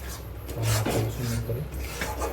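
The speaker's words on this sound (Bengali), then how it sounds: "এইভাবে ভালো করে মশলা সহ দইটাকে ভালো করে আবার নেড়ে নিতে হবে" A spoon stirs yogurt mixed with spices in a pan, making close, continuous scraping and rubbing sounds.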